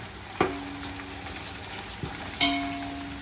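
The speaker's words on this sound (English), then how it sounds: "That's the sound. It's calming down the onion, so that onion will not burn further" Onions for biryani frying golden brown in a pan, a soft steady sizzle broken by two or three sharp metallic knocks and scrapes of stirring, fairly quiet and close.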